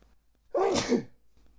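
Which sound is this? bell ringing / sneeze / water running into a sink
sneeze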